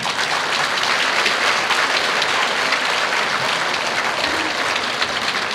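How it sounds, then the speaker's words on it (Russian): Dense, steady applause from a concert audience in a philharmonic hall, a continuous loud wash of many hands clapping throughout. "поприветствуем их аплодисментами"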